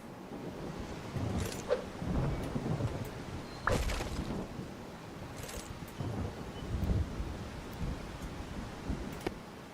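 A thunderstorm in the farming and building game Solarpunk, with several rumbling thunder rolls and sharp crackling strikes over a constant wash of wind and rain.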